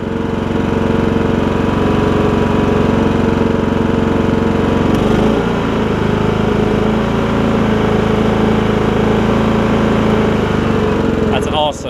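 Troy Bilt Bronco lawn tractor engine running steadily and loudly throughout, a constant droning rumble with a brief shift midway, with faint talk over it.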